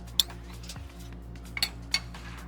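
Forks and spoons clink against plates at a Turkish restaurant, a few sharp metallic taps spaced apart over a steady low hum of background noise.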